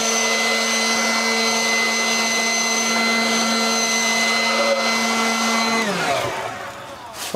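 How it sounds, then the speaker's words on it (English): A blower runs steadily, blowing out the engine of an old truck abandoned in the woods for over 50 years: a loud, continuous whine with a droning hum that winds down near the end. "Get that blower and kind of blow it out a little bit."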